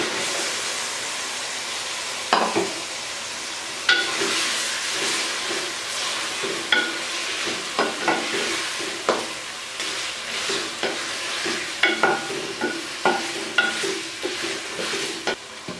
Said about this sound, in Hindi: अब मैं इसमें चिकन शामिल कर दूंगी।